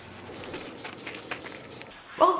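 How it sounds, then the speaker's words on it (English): Krylon Clear spray finish hisses onto a wooden intarsia shark of blue pine and walnut in soft, steady, close bursts for about two seconds, followed by a brief voiced sound at the end. "And I sprayed it with Krylon Clear."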